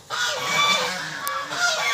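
Close, loud honking from domestic geese at Bhalopahar, Bandwan, Purulia: a steady run of nasal, overlapping calls lasting about two seconds, with no voices.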